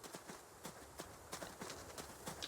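Quiet, steady clip-clop of hooves in an irregular walking rhythm, a video game horse moving at an easy pace with no talk over it.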